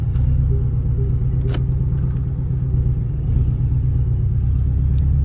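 Porsche Boxster engine rumbling steadily while being driven, a loud, continuous low drone with constant road noise and no clear revs.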